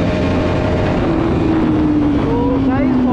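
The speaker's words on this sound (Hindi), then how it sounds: "अभी मैं आपको फर्स्ट गियर की टॉप स्पीड चेक कराता हूँ अपनी NS की" A Bajaj Pulsar NS200 motorcycle accelerates hard to top speed in first gear, its engine note rising steadily under heavy wind rush, with a voice talking over it.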